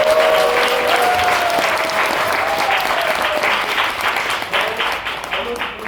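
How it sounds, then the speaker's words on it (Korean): A church congregation gives loud, sustained applause for its missionaries, a dense wash of clapping that stays even throughout, with faint voices rising briefly at the start. "우리 GPP 선교사님들께 감사의 박수 한번."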